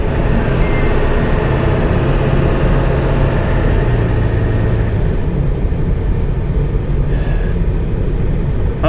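A 1999 Ford F250 Super Duty 4x4 pickup with a 7.3L turbo diesel, a rebuilt truck with steering pulling slightly left, rumbles down the road in a steady, loud, close drone of engine and road noise with no talk.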